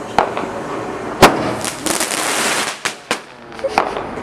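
Bonfire Night fireworks bursting outdoors, with several sharp bangs and crackles spread across the moment, loud and close, over a steady crackling hiss.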